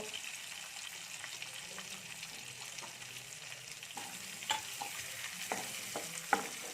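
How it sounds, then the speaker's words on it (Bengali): Steady close sizzling of chopped onions frying in a pan, with a few soft scrapes and clicks of stirring near the end. "পেঁয়াজগুলোকে আমি একটু ভেজে নেব"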